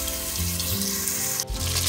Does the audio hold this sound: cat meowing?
no